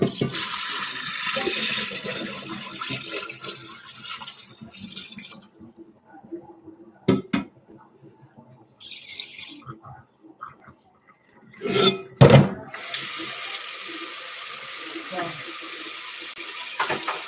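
Tap water runs into a kitchen sink to soak a pot. Gurgling flow and clatter come first, then a quiet stretch with a few sharp knocks, then a strong, steady stream of water close by.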